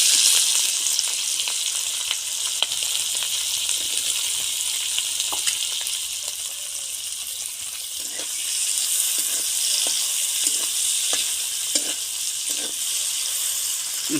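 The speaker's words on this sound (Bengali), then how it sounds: "এখন চিংড়ি মাছ ভেজে নেব" Small freshwater prawns frying in a pan with a steady loud sizzle throughout, broken by occasional light taps and stirring clicks.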